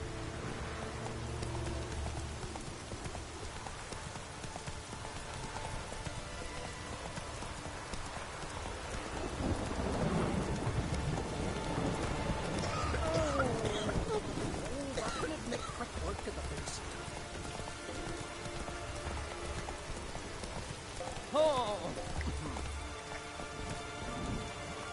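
Rain falls with rumbling thunder in the video game The Witcher 3, a steady patter with a horse's hooves clip-clopping beneath, swelling in the middle, while people talk at times.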